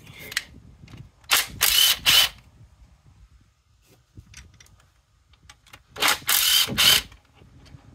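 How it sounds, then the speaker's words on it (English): Ignition coils are unhooked on a 2002 GMC Sonoma engine, with several sharp, close plastic clicks and snapping bursts from connectors being released, separated by quiet pauses. "Now we're going to unhook coils."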